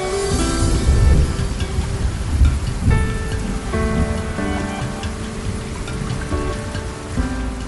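Steady heavy monsoon rain in Lahore pours down loud and close, a dense continuous hiss of drops on surfaces with no voices over it.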